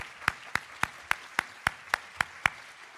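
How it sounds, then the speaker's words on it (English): Nine evenly spaced, sharp claps ring out at a steady rhythm, a small sparse round of applause for the organizing team at the IIPC General Assembly 2015, fairly faint against a quiet room. "So if you can give them a round of applause"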